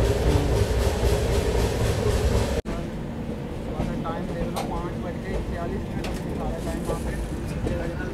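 An LHB-coach Garib Rath Express train at Agra Cantt railway station gives a loud, steady rumble of rolling stock that cuts off abruptly, followed by a quieter station hum with faint clicks and distant voices.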